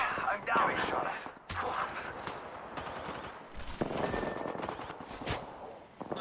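Rapid gunfire in the Apex Legends shooter game, with sharp bursts and single shots crackling through a busy battle mix, partly mixed with game voice lines.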